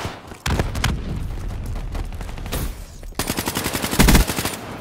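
Rapid automatic gunfire from a Call of Duty: Black Ops 3 match, loud and close, in sustained bursts with short gaps and a dense final volley, no talking.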